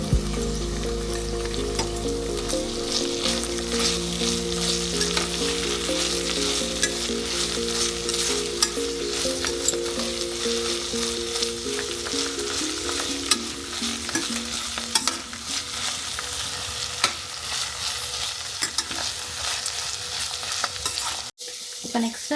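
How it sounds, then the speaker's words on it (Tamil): Green chillies, mint and coriander fry for home-style chicken biryani, with a steady close sizzle and repeated stirring scrapes, a low rumble early on, and an abrupt cut near the end; nobody speaks. "இப்போ இது கூட 4 பச்சை மிளகா, புதினா, கொத்தமல்லி எல்லாம் போட்டு நல்லா ஃப்ரை பண்ணுவோம்"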